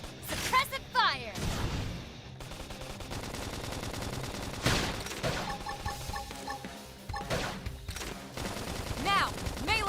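Rapid bursts of gunfire from a suppressive fire attack in the Xenoblade X combat game, clattering volleys mixed with game effects and music, loud and busy throughout.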